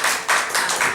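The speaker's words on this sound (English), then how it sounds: "Let's give her a little round of applause" A small audience at a Sunday meeting claps for a board member being introduced, a brief burst of dense hand claps in short pulses.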